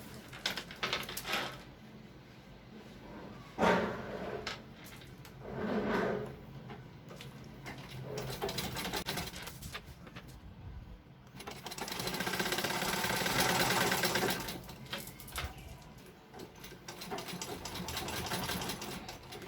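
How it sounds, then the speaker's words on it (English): A sewing machine stitches printed fabric for a throw pillow with trimming, its motor buzzing in several bursts of steady whirring separated by pauses and handling noises, close and fairly loud with no talking. "you sew from this edge down round to the other edge"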